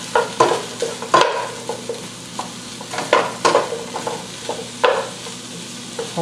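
Browned stew meat and a cup of onion sizzle in a pan for green chile stew, while a wooden spoon pokes and scrapes in distinct knocking strokes over a steady, close crackle, with no talking.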